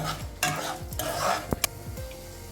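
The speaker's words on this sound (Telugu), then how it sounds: "ఇప్పుడు పప్పులు బ్రౌనిష్గా వచ్చేంత వరకు దీన్ని వేయిద్దాం." Lentils fry in a pan until brown, a steady close sizzle broken by a spoon stirring and scraping in repeated strokes, with a couple of sharp metallic knocks against the pan.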